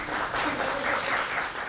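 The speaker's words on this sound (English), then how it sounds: "it's nice to clap" Brief clapping from an audience at a talk on multiple sclerosis and neuropsychological testing, a short burst of many hands with some murmuring mixed in.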